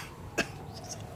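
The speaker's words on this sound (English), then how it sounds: "A little cough, I got it." A single small cough, short and close, followed by a brief faint throat sound against quiet room tone.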